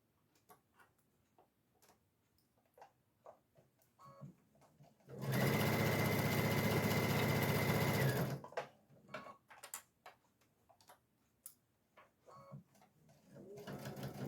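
A sewing machine stitches across the top of pillowcase fabric in one steady, loud run of about three seconds, with quieter clicks and fabric handling before and after.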